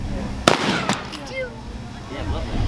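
Rifle fired in an ammunition demonstration at a military museum, two sharp cracks in quick succession followed by lighter pops and crowd murmur, heard from a moderate distance.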